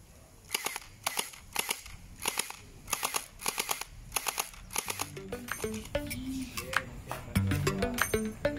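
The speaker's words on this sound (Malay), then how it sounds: "Kita tengok berapa jauh pistol ni boleh pergi. Kita try tembak marker tu." Gel blaster toy pistol fired at a tourist activity kiosk at a museum in Kota Tinggi: about a dozen sharp, close snapping shots in quick irregular bursts, followed by softer clatter and handling noise.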